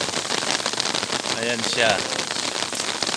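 Heavy rain pours steadily on surfaces, a dense continuous hiss, while someone speaks briefly over it.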